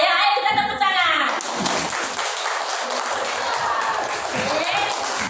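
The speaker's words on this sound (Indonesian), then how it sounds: "Ayo kita tepuk tangan." A class of schoolchildren claps hands in a burst of applause, lively and dense, with a voice heard briefly at the start before the clapping takes over.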